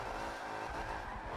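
A minivan drifts backwards in a Forza racing game, giving a continuous engine drone mixed with rubbery tire squeal, loud and steady throughout with no talking.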